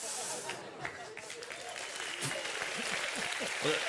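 Faint, steady clapping from a comedy awards audience continues throughout, a soft patter of many hands at a distance.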